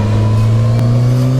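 A 500 bhp Cosworth engine in a home-built Ford Sierra estate sleeper holds a loud, close, steady roar with a deep droning tone, heard alone.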